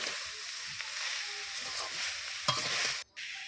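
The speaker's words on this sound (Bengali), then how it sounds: "চিনিগুলো দিয়ে খুব সুন্দর করে নেড়ে চেড়ে একটা পুর তৈরি করে নিতে হবে।" A sugar filling for dahlia-flower pitha being stirred in a pan, with a steady close scraping and sizzling texture throughout, one sharper knock near the end and a brief dropout just after.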